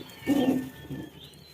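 A Pakistani racing pigeon gives one low, throaty coo up close at a nest with a four-day-old chick, followed by a softer, shorter coo in an otherwise quiet setting.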